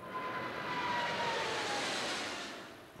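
An Air France Boeing 777 airliner acquired in early 1998 passes overhead, a broad steady jet roar that swells and slowly fades, with a faint whining tone sliding through it and no talk.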